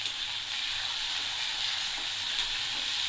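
Onions sautéing in a pan with curry leaves and green chilies give off a steady, close hiss of frying that holds evenly throughout, with no voices.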